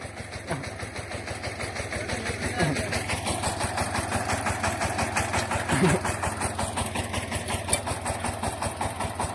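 A tractor engine idles with a steady, even chug while the tractor is pushed by hand; people talk over the engine throughout.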